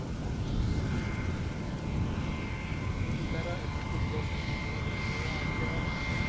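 An Emirates SkyCargo freighter arriving to land on Schiphol's Polderbaan runway, its engines a steady, broad roar that stays loud and continuous throughout, with a person talking over it.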